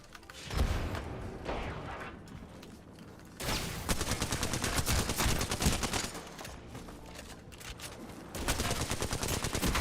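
Heavy gunfire in an Apex Legends match, with dense bursts of automatic fire and repeated shots that start and stop, loud and close throughout.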